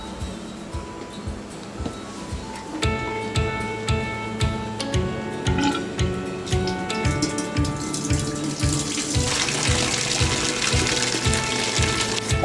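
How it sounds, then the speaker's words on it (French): Water draining out of a deep fryer, a continuous gushing, splashing flow with a steady pulsing rhythm that brightens and hisses more toward the end, close and fairly loud, no voices. "Nous avons donc vidangé la friteuse."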